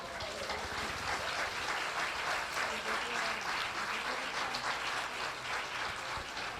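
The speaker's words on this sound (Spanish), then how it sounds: "Dele un aplauso al Señor." A church congregation applauds steadily, dense clapping from many people filling the room at a moderate level without pause.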